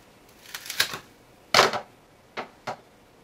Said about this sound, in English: I'm gonna cut it right there.